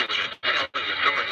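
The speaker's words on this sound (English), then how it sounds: "So you see, you can hear the radio right now." A spirit box radio sweeps through channels, giving three bursts of harsh hissing static cut by two brief silent gaps, loud and near.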